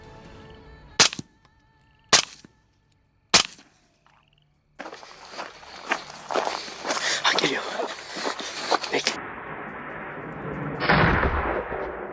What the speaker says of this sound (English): The gunfire resounded.